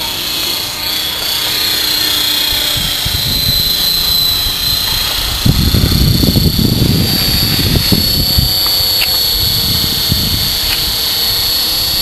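A remote-control helicopter with a dynamic stabilizer hovering at lower rotor head speed, a steady loud whine with a deep whirring drone beneath it and some faint low bumps partway through.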